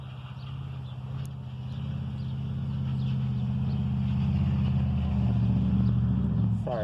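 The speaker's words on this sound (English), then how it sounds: "there's a real loud truck going by" A loud truck rumbles past out in the country, its deep low-pitched engine drone building and holding steady over several seconds as it draws nearer.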